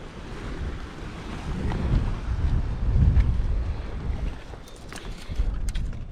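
Gusty wind buffets the microphone in low rumbling surges, rising and falling, with faint water and surf in the background on a Bermuda island shore.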